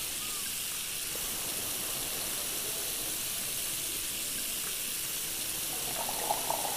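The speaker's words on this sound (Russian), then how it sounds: "Я не понимаю, как работает этот кран." Water hisses steadily from a kitchen tap in the game Cooking Simulator, a constant moderate stream with a faint clink near the end.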